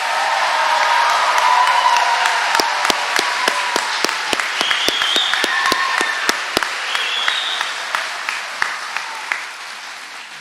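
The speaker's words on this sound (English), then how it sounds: "Could we give this graduating class one more round of applause" Audience at a 6-12 school graduation ceremony applauding the graduating class, a sustained crowd of clapping with a few sharp, distinct claps and faint cheers standing out, slowly tapering off.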